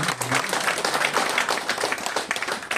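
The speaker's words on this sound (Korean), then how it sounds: "다시 한번 좀 격려의 박수 좀 쳐주세요" Steady applause from a crowd at a welcome address and guest introduction, dense clapping throughout with a faint voice briefly underneath.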